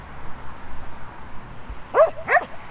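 Two sharp dog barks in quick succession near the end, moderately close at a camping site, after a stretch of quiet outdoor background.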